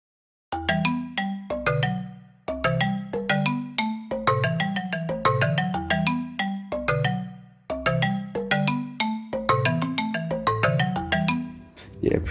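Strummed, quantized chord melody made with stock plugins for an Afrobeat and dancehall beat, evenly timed plucky chord rolls repeating steadily for about twelve seconds, clear and without voices.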